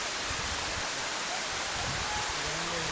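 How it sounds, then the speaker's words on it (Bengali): Rushing water at the top of Hamham waterfall, a steady broadband roar filling the whole clip with faint low rumbles beneath and no talk. "এই যে দেখেন এটা ঝর্ণার উপরিভাগ।"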